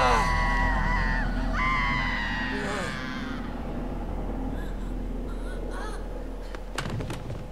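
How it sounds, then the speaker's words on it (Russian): A woman in the Murdered: Soul Suspect game, set in a psychiatric hospital, lets out loud, piercing screams over the first few seconds, then a noisy ambient bed with sharp clicks near the end. "Да что ты орешь-то так?"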